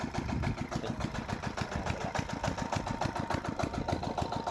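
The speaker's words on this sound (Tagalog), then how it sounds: "Ang hina lang ng ikot ng makina" Slow-turning engine driving an aerator at a fish cage, a steady rhythmic chugging pulse with regular knocking beats, close and continuous with no talking.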